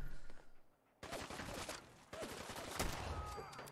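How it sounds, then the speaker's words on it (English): Sustained gunfire in Fallout 4 with people firing from rooftops: dense, continuous volleys of shots that drop out briefly, then resume loud and close, with occasional sharper cracks standing out. "Where is everybody firing from?"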